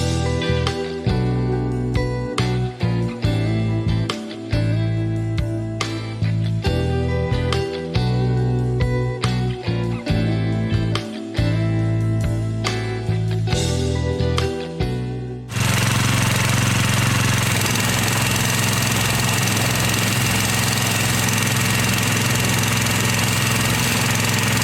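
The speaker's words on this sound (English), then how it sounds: "I'd say it's running pretty damn good" A Subaru EX21 7.0hp engine on a Rigid pressure washer runs steadily with a loud, rapid knocking chug that shifts midway into a smoother, broadband roar, close and continuous with no talk.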